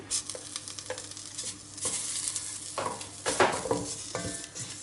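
Flour and tomato paste stirred and toasted in a pot over medium heat, with steady scraping strokes and a soft sizzle running throughout, a few louder spoon scrapes near the end, no talking.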